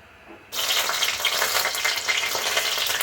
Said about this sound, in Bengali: সর্ষের তেলের মধ্যে এটা গরম হয়ে গেছে এখন আমি দিয়ে দেবো দুটা শুকনো লঙ্কা